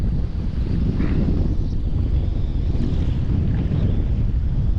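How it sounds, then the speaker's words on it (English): Strong wind roars across the microphone on a small fishing boat out on the water, a loud, continuous low buffeting rumble with faint splashing beneath and no talking. "the wind started cranking like crazy"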